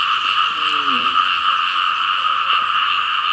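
Frogs croaking in a night-time field where people hunt frogs with lights, a steady chorus of loud, close, continuous calls with a few lower, separate croaks rising out near the start.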